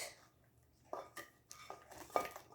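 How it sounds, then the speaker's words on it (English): Scrambled eggs scraped out of a pan onto a plate, with a few faint metallic scrapes and clinks of utensil on cookware spread over a quiet kitchen background. "right now, I'm just going to get the eggs off of my pan and onto my plate."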